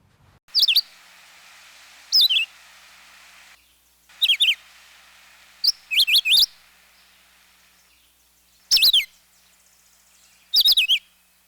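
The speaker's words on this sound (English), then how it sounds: "Red-eyed vireo is my default bird. 3-note phrases." A red-eyed vireo sings short, high, slurred phrases of a few notes, repeated every couple of seconds with pauses between, clear and close against a quiet background.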